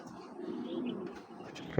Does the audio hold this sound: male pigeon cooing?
yes